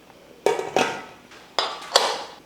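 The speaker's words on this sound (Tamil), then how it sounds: "சரி பார்த்துட்டு குக்கர் மூடி போட்டுடலாம்." A pressure cooker lid is set and locked onto a pot of coconut-milk vegetable biryani, giving four sharp metallic clanks in two quick pairs, close and fairly quiet.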